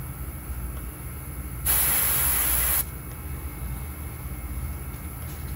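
A burst of airbrush spray paint hisses steadily for about a second, loud and close, then cuts off, leaving a low background hum, while painting a greenback cutthroat trout.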